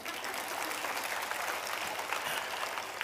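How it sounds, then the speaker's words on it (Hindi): A gathered congregation at a Jamgain pilgrimage event breaks into steady, full applause, a dense continuous patter of many hands lasting the whole three seconds with no speech over it. "ताली बजा सकते हैं।"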